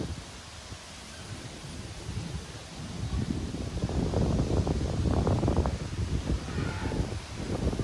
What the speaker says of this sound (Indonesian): Hari ini nampaknya angin bertiup cukup kencang, tidak seperti biasanya.